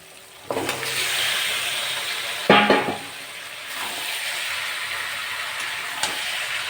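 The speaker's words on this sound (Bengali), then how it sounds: "মশলাটা কষা হয়ে গেছে তেল ছেড়ে গেছে এবার আমি মাংস চিকেনগুলো দিয়ে দেবো এক কেজি চিকেন" A kilogram of chicken pieces tipped into a pan of oil-released fried spice paste, setting off a sudden loud sizzle and crackle that settles into a steady frying hiss, close by with no talk.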